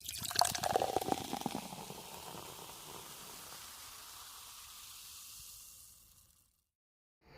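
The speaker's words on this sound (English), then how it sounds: "Here, I'll pour you another pint." Beer pours into a pint glass close by, a splashy burst at first that settles into a steady foaming fizz before stopping.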